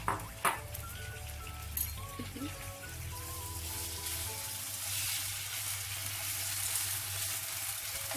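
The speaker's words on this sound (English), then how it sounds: "We just fry it." Chicken pieces frying in a little oil in a wok for a celery and mushroom stir fry, with a continuous close sizzle, some utensil clinks and scrapes early on, and a low fan hum underneath.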